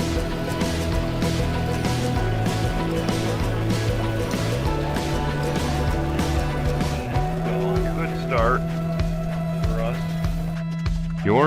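Pickup trucks in a truck series race at Daytona under the lights, roaring off together at the start, a loud sustained engine drone with shifting pitch and some tyre noise, under continuous commentary.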